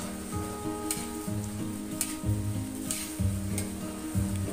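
Fishball dipping sauce thickened with flour and cornstarch being stirred in a pot. A steady swishing and scraping runs throughout, with faint ringing tones behind it.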